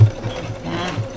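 A sewing machine running a fast zigzag stitch at nearly its widest width while sewing a skirt remade from a dress, a steady close mechanical whir lasting about a second.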